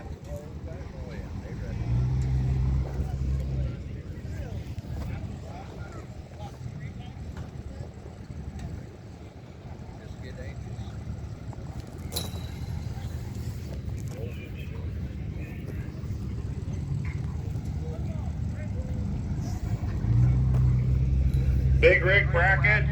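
Diesel trucks drag race down the strip at the NHRDA Diesel Nationals at Redding Dragstrip, a deep rumbling engine roar that swells and holds under an announcer's talk over the loudspeaker.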